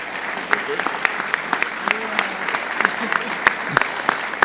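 An audience applauds an award recipient at a Shared Humanity Award ceremony, with steady, dense clapping from a crowd that carries through the whole stretch.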